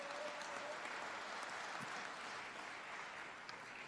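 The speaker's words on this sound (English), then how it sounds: "can you give a big round of applause to Consul General Dalela Ji and the consulate, as well as Mayor Steve Chirico?" Steady audience applause at an outdoor Yoga Day gathering on grass, hosted with a consul general and mayor, fairly distant and continuous throughout, with a brief faint tone near the start.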